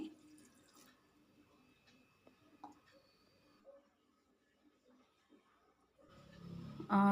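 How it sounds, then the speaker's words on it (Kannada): Water is poured into a pan of cooking moong beans, a short, loud rushing splash near the end after a quiet stretch with a few soft clinks. "ಒಂದು ಗ್ಲಾಸು ಒಂದೂವರೆ ಗ್ಲಾಸಷ್ಟು ನಾನು ನೀರು ಹಾಕ್ಕೊಳ್ತಾ ಇದ್ದೀನಿ"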